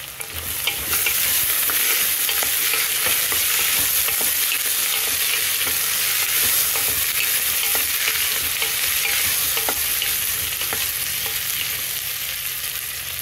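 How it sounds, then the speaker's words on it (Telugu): Taro pieces fry in a pan with onion and ginger-garlic paste for a Telugu curry, giving a steady, dense sizzle with stirring scrapes throughout, close and fairly loud with no talk. "ఉల్లిపాయ వేగిన తర్వాత కొద్దిగా అల్లం వెల్లుల్లిపాయ పేస్ట్, కోసి ఉంచుకున్న ఈ సేమదుంప ముక్కలు వేసేయాలండి"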